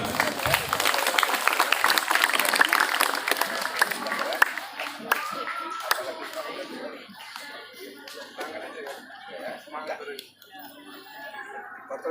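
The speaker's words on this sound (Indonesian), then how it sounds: "Berikan tepuk tangan." Students and staff at a school gathering in Labuhanbatu clap loudly in a burst of applause that gradually thins out and fades, while people talk over the tail end.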